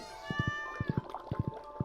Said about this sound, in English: Say hello to our meowing cat.